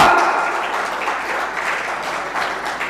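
Loud, dense applause from the audience at a Hindi comedy poetry gathering, steady clapping close by that tapers only slightly over a few seconds, with no talk over it.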